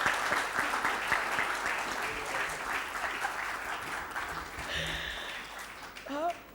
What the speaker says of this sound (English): Now you bloody well clap for me.